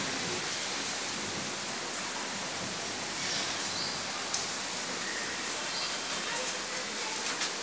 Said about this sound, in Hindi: अच्छे से बारिश शुरू हो गई है।